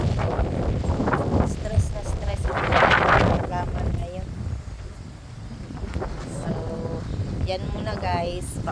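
Strong wind gusts through garden plants in sunshine outdoors, buffeting the microphone with loud, uneven rumbling bursts that swell and ease.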